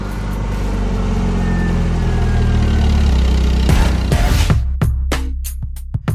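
A car engine starts up with a loud burst, then settles into an idle, with a steady low engine rumble beneath and a few sharp clunks near the end.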